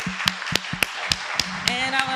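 An audience at a student business panel claps for the students: sharp, close claps land at an even, quick rhythm about three to four per second, and a voice talks underneath.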